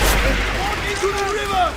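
Explosion in Call of Duty World at War, a loud low boom at the onset followed by a rumbling tail with whistling, sweeping tones and scattered game noise over about two seconds.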